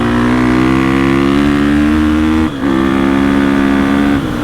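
A 2021 Gasgas EX 350F dirt bike engine revs hard on a dirt road, holding a loud steady pitch, a brief dip at a gear change, then pulling on again.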